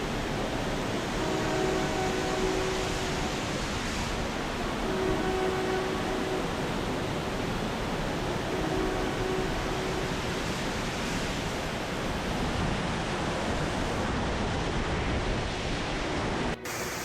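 Steady, loud roar of a waterfall along the Trail of Ten Falls in Silver Falls State Park, Oregon, a continuous close wash of falling water with faint gusts of wind over the microphone.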